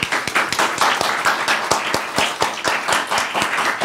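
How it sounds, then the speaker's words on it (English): An audience claps for a speaker at a development cooperation talk in Washington, D.C., a dense run of sharp, close hand claps continuing steadily on its own without voices. "let's give a round of applause to Dr. Cha"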